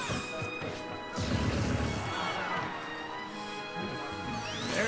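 Pikachu lands forward smash hits in a fighting video game, sharp crashing impacts in quick succession with whooshing effects and game sounds layered over a busy background.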